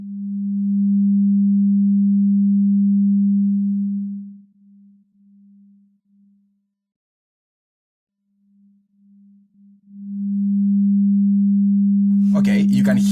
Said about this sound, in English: Right now we're listening just to Audio Brewers beam.